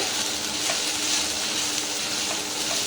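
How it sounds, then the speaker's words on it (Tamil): Green chillies sizzling in hot oil with ginger-garlic paste as they are sautéed in a pan for a spicy chicken dosa, a dense continuous frying crackle close up with no voices. "பச்சை மிளகாய் போட்டு லைட்டாக வதக்கிட்டு"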